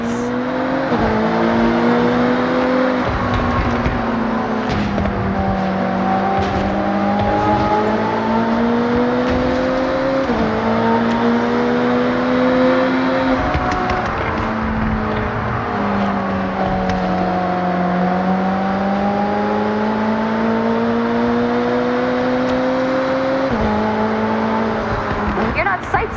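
Race cars in Forza Horizon 6 rev hard, and the engine pitch climbs and drops through repeated gear shifts in a steady, loud drone. Speech runs faintly underneath.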